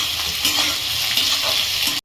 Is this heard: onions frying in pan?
yes